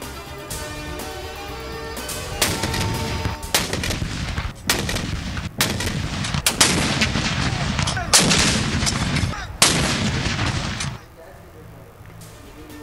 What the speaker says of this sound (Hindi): सूबाई दारुल हुकूमतों में 21-21 तोपों की सलामी से दिन का आगाज